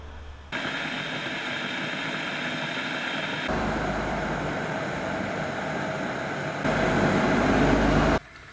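Electric kettle heating water toward a boil, a steady broadband rushing hiss that grows louder in steps over several seconds, then cuts off abruptly.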